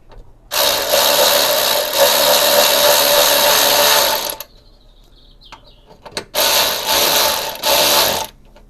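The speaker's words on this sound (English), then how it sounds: "Right, let's tighten this up." A ratchet tightens bolts on a crash-damaged Fiat 500 Abarth under repair, loud rapid clicking in two long bursts with a short quiet gap between, no talking.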